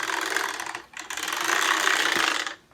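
A Kirby Ultimate G upright vacuum's transmission rattles and grinds in neutral, a continuous close mechanical clatter that dips briefly and then runs on before fading out.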